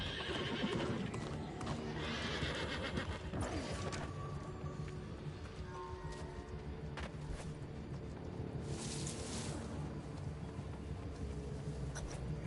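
Horse neighing and clip-clopping hooves in the New World fantasy game, a whinny over steady hoofbeats and ambient game sounds with no talk.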